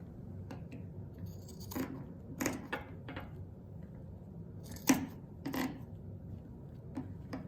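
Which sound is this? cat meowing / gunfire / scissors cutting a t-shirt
scissors cutting a t-shirt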